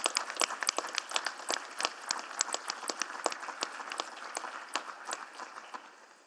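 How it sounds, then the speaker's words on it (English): A city council chamber audience applauds artists, with steady, moderately distant clapping from a modest crowd that tapers slightly toward the end. "So round of applause for all of our artists."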